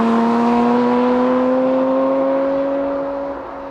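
Porsche sports car engine, a Cayman GT4 RS or GT3, held at a sustained high-pitched rev with a smooth, loud whining tone that slowly drops and fades near the end.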